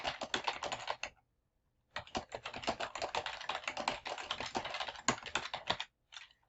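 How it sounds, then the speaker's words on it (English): Rapid typing on a computer keyboard while a business letter is written in Google Docs: quick, close clicks in bursts, a pause of about a second, then a longer run of keystrokes and a final short flurry, with no talking. "I'll finish typing the letter and then we'll continue"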